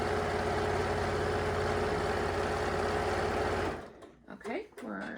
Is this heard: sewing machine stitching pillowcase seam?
yes